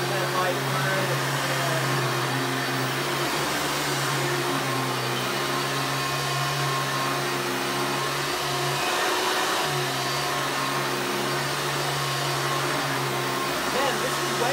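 A Hoover Runabout Supreme triple-filtration upright vacuum cleaner runs steadily with a droning motor hum and airy whoosh, close and continuous, its pitch shifting slightly partway through.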